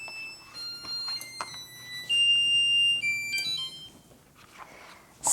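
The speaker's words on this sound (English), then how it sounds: "So my timer just went off" Electronic beeping from a kitchen timer sounds in repeated steady tones, moderately loud against a quiet room, with no talking.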